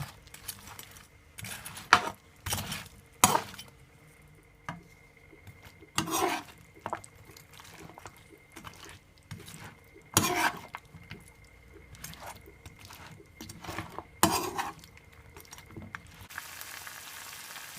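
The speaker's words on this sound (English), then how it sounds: "Just give it a stir." Sweet and sour pork stirred in a hot frying pan, with continuous sizzling broken by repeated scraping and clattering strokes of the utensil against the pan, close up and without talk.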